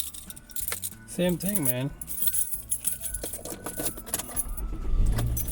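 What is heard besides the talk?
car keys jangling as they are handed over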